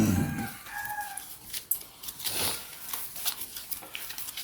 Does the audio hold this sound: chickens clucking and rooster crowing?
yes